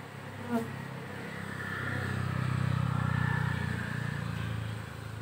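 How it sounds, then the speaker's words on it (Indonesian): Wild bees swarm around a hive box set out to catch a colony, a dense droning buzz of many insects that swells louder midway and stays close and continuous, with no talking. "Nanti lebah yang sisa ini bakal dengan sendirinya dia masuk ke dalam sarang."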